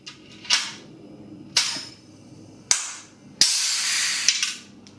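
Sharp pneumatic pops from an air-powered rivet gun setting rivets, four loud bursts each trailing a short hiss of exhaust air, the last followed by a longer hiss, close and with no talking.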